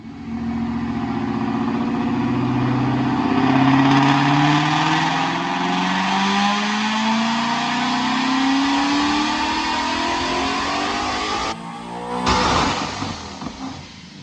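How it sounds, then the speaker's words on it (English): A 2015 Mustang GT with a Paxton Novi 2200 supercharger, manual transmission and 93 octane fuel during a dyno pull: the engine climbs in a long, loud rising rev through the gears, then cuts off sharply with a brief burst near the end. "Check out this dyno pull."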